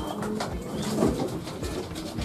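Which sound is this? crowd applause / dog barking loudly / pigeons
pigeons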